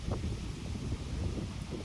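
Wind gusting outdoors straight into the microphone, a steady low rumbling buffet that stays loud and unbroken throughout, with no voices.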